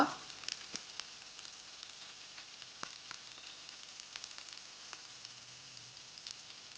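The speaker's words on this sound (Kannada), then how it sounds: "ಕರಿಬೇವು, ಹಾಗೂ ಹೆಚ್ಚಿದ ಬೆಂಡೆಕಾಯನ್ನು ಹಾಕಿ ಚೆನ್ನಾಗಿ ರೋಸ್ಟ್ ಮಾಡಿಕೊಳ್ಳುವ" Chopped okra roasting with curry leaves and cumin in a pan, giving a steady soft sizzle with scattered small pops and crackles throughout.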